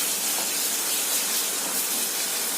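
Sugar fries in hot oil in a pan for a shrimp and taro curry, giving a steady, close, loud sizzling hiss with no break.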